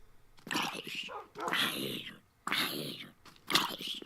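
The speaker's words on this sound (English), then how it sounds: "I always hear the dog's whines and I get so scared that the dog has gotten hurt." A dog whining in the video game Minecraft, four short whimpering bursts with brief gaps between them, fairly close and distinct.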